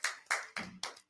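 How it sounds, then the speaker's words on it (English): Four sharp claps in a steady rhythm, close and fairly loud, each ringing briefly before the next, with no talking over them. "Clap it up for that."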